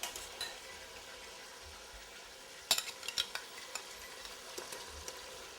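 Potatoes frying in hot olive oil in a wide-bottomed pan for a Portuguese pork and clams dish, a soft continuous sizzle with a cluster of sharp clinks and scrapes midway, close, no talking.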